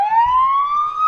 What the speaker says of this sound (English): can you play a sound or a horn or a siren right now?